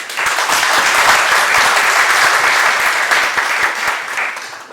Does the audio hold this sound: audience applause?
yes